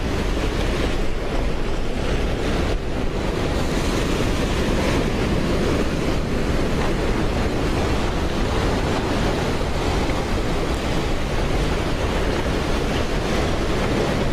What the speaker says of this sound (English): Swell calming down.